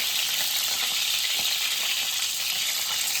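Eggs fry in a pan for a village-style egg and potato curry, giving a continuous dense hiss and crackle of hot oil, steady and close with no pauses.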